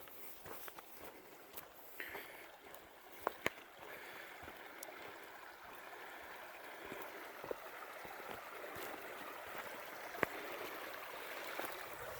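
A big creek runs at a trail crossing in Hawn State Park, with steady flowing water and gurgle under occasional footsteps and sharp knocks on the path, no talking.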